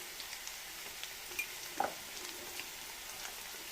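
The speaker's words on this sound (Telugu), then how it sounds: "1 స్పూన్ అల్లం వెల్లుల్లి పేస్ట్ వేసుకొని ఎర్రగా వేయించుకోవాలండి." Onion and ginger-garlic paste fry in oil for a tomato egg curry, giving a faint, steady sizzle with a few small pops and crackles and no talking.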